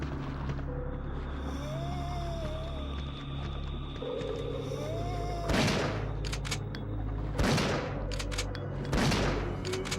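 Gunfire from the video game Resident Evil 3: Nemesis, three loud broadband shots at irregular intervals over a steady low humming game ambience, with a few quieter clicks between them.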